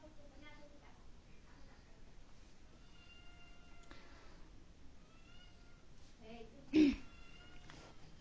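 A cat meows several times, soft and faint in a quiet room, with one louder sharp call near the end and low voices in the background.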